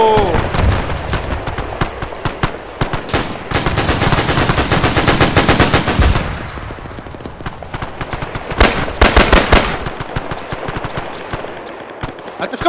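Bursts of automatic gunfire and single shots crack through a combat scene in the military game ARMA 3, loud and dense early on, thinning out, then another heavy burst later, with faint voices underneath.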